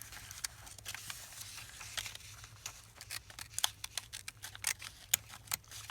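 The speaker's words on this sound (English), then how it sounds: "You can either rip it or carefully cut it along your edge." Paper cut along an edge with scissors in quiet, close snips, a rapid irregular series of short crisp cuts with light rustling between them.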